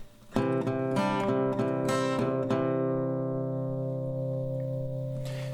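An acoustic guitar plays the chords of a song at the original tempo: a few quick rhythmic strums, then the chord rings out and slowly fades, with no talking.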